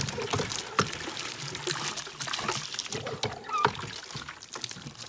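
Water rinses through a chicken feeder with a continuous close splashing and pouring wash that has a few sharper knocks scattered through it.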